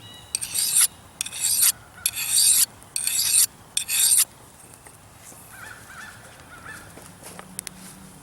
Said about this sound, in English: Once I'm done doing that with the sharpening stone